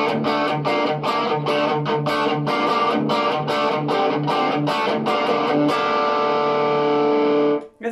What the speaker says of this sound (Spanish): Es el tono con el Devour prendido.